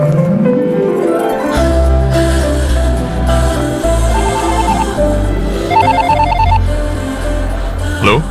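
A mobile phone ringtone plays a repeating electronic melody in short patterned bursts, loud and close over a swelling film-score background with no talking.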